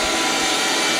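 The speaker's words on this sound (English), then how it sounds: "The vacuum cleaner is going." Vacuum cleaner running aboard a small boat home, a loud, steady whooshing motor drone filling the whole moment.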